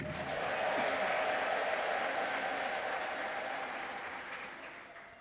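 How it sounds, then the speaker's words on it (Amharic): A church congregation at an Ethiopian preaching service ululates in praise, producing a dense, sustained wall of trilling voices and clapping that gradually fades away. "እልልታ ለጌታ"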